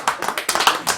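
A short burst of applause, several quick hand claps close by in an uneven patter, with no talking.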